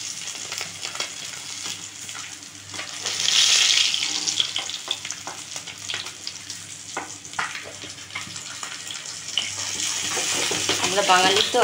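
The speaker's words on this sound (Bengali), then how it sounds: "মাছটা ভাজা হয়ে গেছে, এবার তুলে নিচ্ছি।" Pieces of katla fish fry in oil in a pan for a Bengali doi katla dish, producing a continuous crackling sizzle that swells and eases, with occasional clinks of a spatula, heard close.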